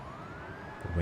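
An ambulance siren rises steadily in pitch inside the Cities: Skylines city-building game, a faint continuous wail with a mountain community's soft ambient bed beneath it and a short low thump near the end.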